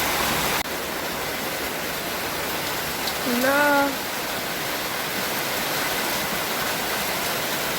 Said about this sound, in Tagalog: Kasi ganito kalakas yung ulan, oh.